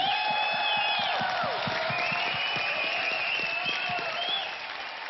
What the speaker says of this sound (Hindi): एक जोरदार ताली इन सबके लिए